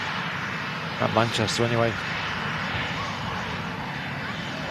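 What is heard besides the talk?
Eastern ATR turboprop aircraft taxiing at Manchester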